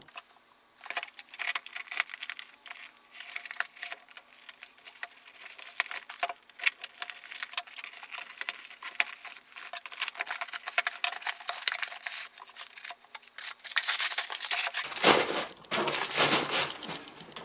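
A cardboard box sealed with plenty of brown tape is worked at during a camera lens unboxing, with scattered close taps, scrapes and crinkles. A louder burst of tearing and rustling comes near the end.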